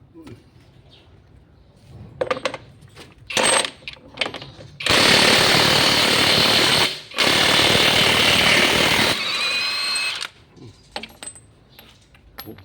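An iman cordless battery impact wrench, fitted with an extension adapter, loosens a soil-caked nut. After a few short clicks and knocks it lets out long, loud, rattling bursts, cuts out briefly, then resumes before stopping.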